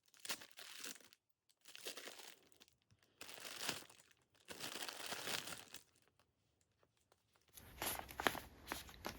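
Bursts of crinkly plastic rustling and tearing as a small gift package is unwrapped, in several separate rounds with short pauses between, close and fairly quiet, ending in a sharper crackle.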